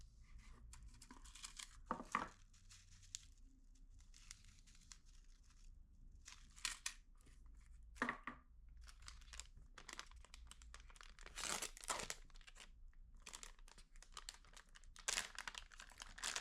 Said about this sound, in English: Also we see 3 sealed plastic bags and silica gel. Let's unpack them and see what's inside.